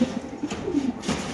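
A large Afsan grizzle pigeon in a cage gives a short series of soft, close coos over light background noise.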